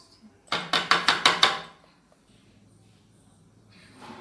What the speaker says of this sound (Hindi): इसकी अब हम कटिंग कर लेते हैं